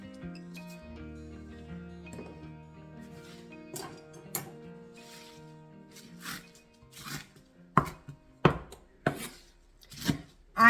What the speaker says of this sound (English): I'm going to loosely chop this up.